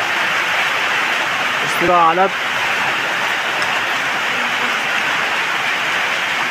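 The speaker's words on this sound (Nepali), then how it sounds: "पानी परिरहेछ" Rain falls steadily on a mountain trek toward Pathibhara, making a constant broadband hiss throughout, with a voice briefly speaking partway through.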